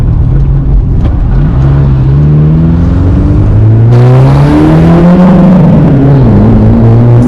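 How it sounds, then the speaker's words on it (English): A Porsche 924 Turbo accelerates at full throttle from inside the car, its engine note droning loud and steady and climbing in pitch through the gears. "let's see what it does under full throttle"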